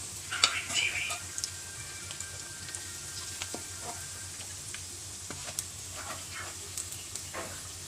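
Pork frying with garlic and pepper gives a steady, moderate sizzle and crackle, broken by scattered sharp pops and spatula scrapes, with some faint talk in the background.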